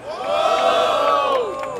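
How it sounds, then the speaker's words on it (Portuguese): A crowd at a Brazilian street rap battle roars and shouts in support, a swelling burst of massed cheering and whoops that rises, holds and fades over under two seconds. "Barulho para as rimas de CH."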